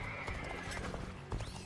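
A horse in the Dynasty Warriors Origins game whinnies over the clatter of hooves, brief and moderately close amid busy battlefield noise, with faint talk underneath.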